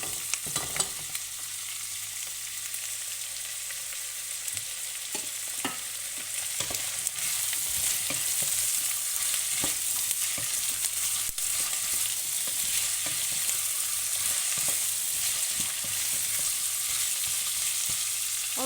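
Carrots sizzle steadily in a pot while browning for a Provençal daube, a constant frying hiss with occasional sharp clicks of stirring, no voices.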